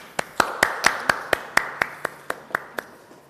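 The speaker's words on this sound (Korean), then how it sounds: "자, 그러면 김정식 대표님 말씀을 박수로 청해 듣겠습니다" Slow, evenly spaced claps at a social innovation forum, about a dozen sharp hits, fairly close and distinct rather than a full crowd, with faint room noise between them.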